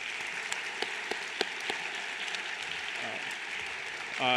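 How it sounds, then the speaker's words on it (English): A crowd at a medical school Match Day ceremony applauds in a dense, steady wash of clapping that holds for several seconds before a voice comes in at the very end. "Let's give them a round of applause."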